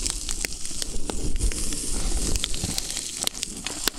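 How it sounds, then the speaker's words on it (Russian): Bacon frying in a pan while making eggs Benedict, a close, steady sizzle with dense crackling and sharp little pops scattered throughout, no voices. "Бекон тоже поджаривается."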